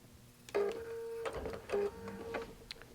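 A QBOT V3 quilting machine locks off its stitches with two short mechanical whirring bursts, carrying a steady motor tone and a light rattle, close and moderately quiet, with brief pauses between.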